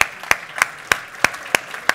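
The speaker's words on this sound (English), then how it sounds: "another round of applause for Dr." Applause from a conference audience for a speaker on the Cosmoverse stage, with sharp claps at a steady beat of roughly three per second over a continuous wash of crowd clapping.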